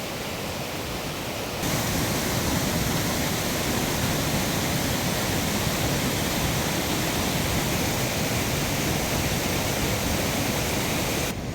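A mountain stream rushes steadily past a highland plateau near Uzungöl in Trabzon, making a dense, even roar of water that grows slightly louder after the first couple of seconds and continues unbroken, with no voices.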